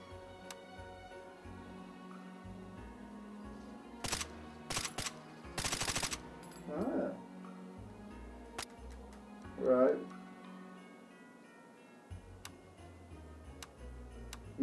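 Quiet automatic fire from a gun in the VR shooter H3VR, heard as a short run of soft, rapid clacking shots, with a few isolated clicks and some brief talk around it.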